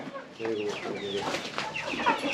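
Hens and chicks cluck and cheep steadily on an integrated sheep and poultry farm in Yaliyur, Devanahalli taluk, near Bengaluru, with a voice talking faintly beneath the birds.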